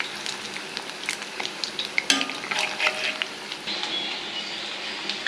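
Potato bonda fritters in batter frying in hot oil, a soft crackling sizzle with scattered clinks and scrapes as the pieces are turned over in the pan.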